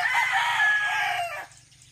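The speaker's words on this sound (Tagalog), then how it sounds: "ito pa yung mga manok ni Papa" Chickens in a backyard coop at dawn, with a rooster's loud close crow rising and then cutting off, and faint clucking behind.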